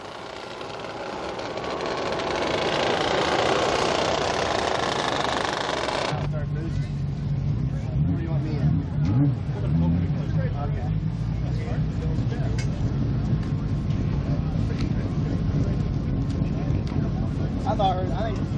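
A race car engine at Path Valley speedway in 1992 is heard as a low, steady rumble and drone. Before it, a brief burst of broad, loud noise sounds. Voices come and go over the engine.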